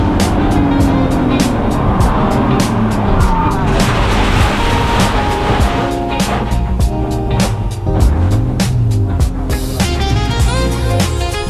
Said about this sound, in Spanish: al frenar fuerte sin ABS clavé frenos, así que una vez ya vi que no entraba en la curva dejé ir el coche recto